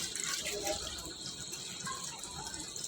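Water is poured into a pot of beef biryani being cooked, a soft, continuous splashing trickle that stays quiet and steady throughout.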